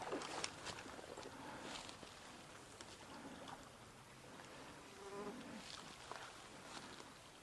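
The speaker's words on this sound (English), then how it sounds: "The mosquitoes are absolutely killing it." Mosquitoes buzzing around a trout-fishing spot near a stream, faint whining drones passing close and away over a soft outdoor background.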